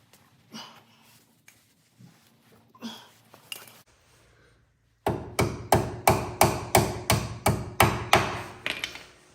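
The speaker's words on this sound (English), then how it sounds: "A hammer will sometimes have a tendency to bend the cotter pin" A hammer knocks at a cotter pin on a Kawasaki Mule 4010 4x4 SE, starting with scattered light taps, then a quick run of about a dozen loud, sharp metallic strikes close by.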